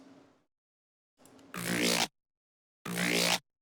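Two loud, squashed bursts of a thick, growling electronic synth, each cut off sharply, preceded by a faint quieter snippet of the same sound.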